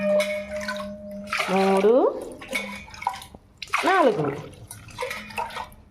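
Glasses of water are poured over soaked rice in a kitchen, giving short bursts of splashing and rising glugging tones, with a person talking between the pours.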